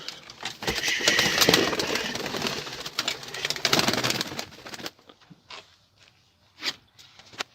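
Pigeons kept for breeding coo inside their coop in Azerbaijan, with scratchy shuffling and rustling at first, then softer, sparser calls near the end.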